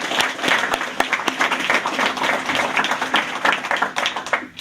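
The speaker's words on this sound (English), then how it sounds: "Give yourselves a round of applause" A graduation audience claps for the graduates, dense continuous applause from a large crowd filling the room for several seconds, with no voices over it.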